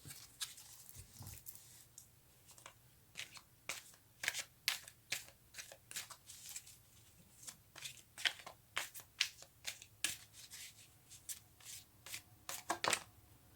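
Tarot cards shuffled by hand, heard close and fairly quiet as irregular crisp riffling and slapping bursts repeating steadily, with no talk.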